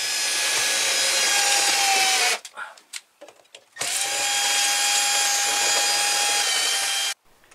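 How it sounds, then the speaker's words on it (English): A 75mm hole saw cutting through an indoor house wall, a loud whining grind in two long bursts separated by a brief pause with clunks. "to make the hole from the hallway in through the cupboard, I just use a 75mm hole saw"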